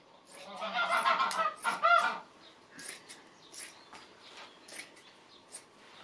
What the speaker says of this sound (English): just sit in my studio listening to the geese honking and the birds singing